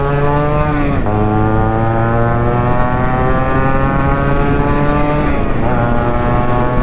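Yamaha RXZ two-stroke motorcycle with an open exhaust ridden fast on the Bengaluru–Mysuru highway, a loud continuous buzzing drone that dips briefly at gear shifts and climbs again, steady wind rush underneath.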